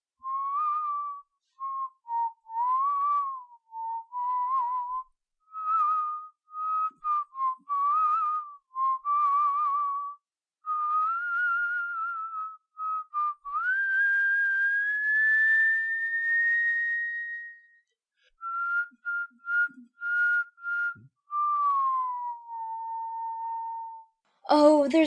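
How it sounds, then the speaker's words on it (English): A footman whistles a wandering tune in a reading of Alice's Adventures in Wonderland, a clear solo whistle of short phrases broken by pauses, with one long rising note near the middle and a brief sound at the end. "said the footman, and began whistling"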